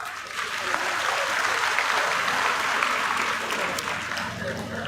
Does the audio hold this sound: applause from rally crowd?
yes